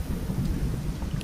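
Heavy rain and rumbling thunder from a storm in the video game Zero Sievert, a short, dense, continuous downpour with a low booming roll underneath and no talking.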